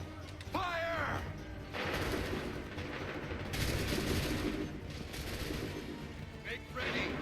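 Musket volley in Assassin's Creed 3, a dense crackling burst of gunfire with sustained battle noise and shouted voices over it, loud and chaotic throughout.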